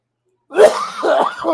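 A short throaty cough from a man recovering from an illness bursts out, followed by a couple more rough coughing or throat-clearing sounds, close and fairly loud.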